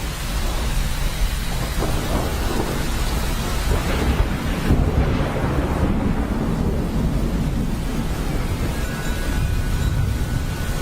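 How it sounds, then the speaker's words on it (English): Heavy tropical rain pours steadily in Singapore while thunder rumbles low and continuously underneath, a dense, unbroken wash of downpour with no voices. "And here comes the rain,"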